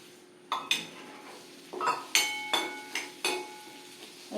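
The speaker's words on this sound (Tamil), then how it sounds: "நான் இப்போ ரவையை வறுக்க போகிறேன்" Semolina roasting in ghee in a metal pan for a sweet kesari, with a spoon repeatedly clinking and scraping against the pan in a loose rhythm of bright metallic taps, close and clear.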